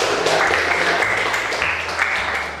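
A group claps in a continuous, fairly loud burst of applause in a classroom that begins to fade slightly toward the end.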